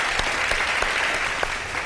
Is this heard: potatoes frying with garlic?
no